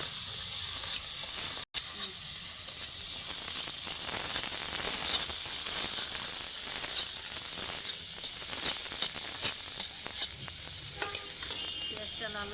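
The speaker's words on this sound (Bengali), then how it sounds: "তো পেঁয়াজটা আমি লাল লাল করে ভেজে নিয়েছি" Onions with nigella seeds and slit green chillies sizzle in oil for a boal fish curry, a steady loud hiss with stirring scrapes throughout and one momentary dropout near the start.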